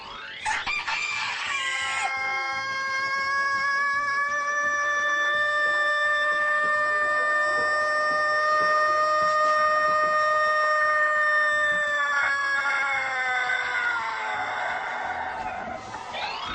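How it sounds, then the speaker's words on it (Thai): Close and loud, a rooster lets out one extremely long crow, holding a steady strained note for roughly ten seconds before trailing off, with nothing else audible. "ไปฟังไก่ขันอีกสักทีครับ"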